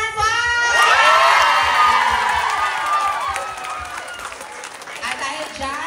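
An audience in Vienna, Austria cheers and applauds a game winner at a comedy show, a loud burst of shouts, whoops and clapping that slowly fades while a voice talks over it.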